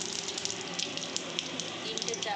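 Nigella seeds crackle and sizzle as they drop into hot frying oil in a home kitchen, a steady faint hiss dotted with small sharp pops, with a voice speaking faintly over it.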